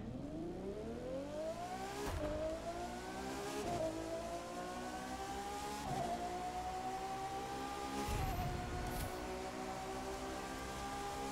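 Ferrari F12 Berlinetta engine in the racing game The Crew 2, revving steadily higher with a smooth rising whine, punctuated by several sharp gear-change dips and blips, loud and continuous with no talking.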